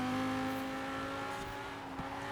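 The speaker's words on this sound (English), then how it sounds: "Driving in the snow, taking completely wrong lines over here, almost missing a turn." A race car engine droning steadily in Forza Horizon 4 while sliding through winter snow in a street team race, a sustained tonal motor hum holding pitch with a faint thump near the end, moderately quiet.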